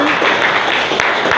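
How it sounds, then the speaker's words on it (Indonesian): Classroom applause for a student group after their presentation, a brief, loud, close burst of clapping with voices mixed in. "Kita beri tepuk tangan untuk Gaida dan kelompok yang presentasi."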